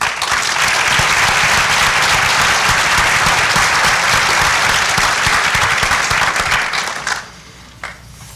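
An audience at a vocational-technical center grand opening applauds to welcome a Board of Education vice president, with dense sustained clapping for about seven seconds before it stops abruptly, followed by a few scattered claps.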